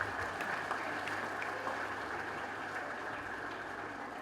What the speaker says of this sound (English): I'd like to request all the parents to give them a big round of applause